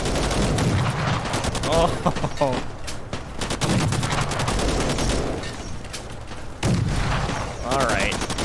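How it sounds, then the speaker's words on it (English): Soldiers open fire in Fallout New Vegas, with dense continuous rapid gunfire and overlapping volleys running loud throughout and a brief exclamation from a voice amid the shooting. "Don't fire until they're in range. All right, tell me. Fire!"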